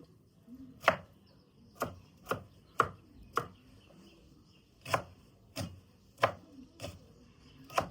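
A knife chops on a cutting board, about eleven sharp, close strikes at an uneven pace, with a short pause midway and no talking.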